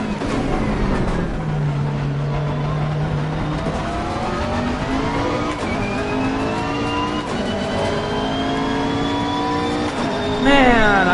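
Race car engine at full throttle in the Assetto Corsa Competizione racing game, a loud sustained howl rising through the gears with sharp pitch climbs and upshift drops, running continuously to a final surge.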